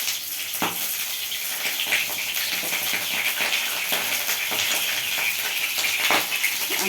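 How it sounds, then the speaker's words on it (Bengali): Sliced bitter gourd fries in a pan with a steady, dense sizzle and hiss throughout, close and fairly loud, with a few faint clinks of a utensil stirring. "গাছের যে উচ্ছে আছে, এই উচ্ছে ভাজবো"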